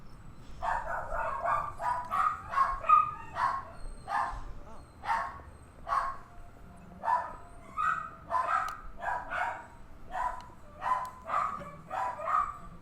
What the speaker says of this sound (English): Sorry about that. Dogs going crazy.